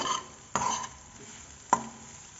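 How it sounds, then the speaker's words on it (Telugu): Soya chunks (meal maker) being fried in oil in a pan, heard as a faint background sizzle broken by two sharp, close scrapes or clinks of a spatula stirring against the pan. "అదే ప్యాన్లోకి వీటిని వేసుకునేసి కొద్దిగా ఫ్రై చేసుకుందామండి ఆయిల్ వేసేసి కొద్దిగా దీన్ని ఫ్రై చేసుకోవాలి"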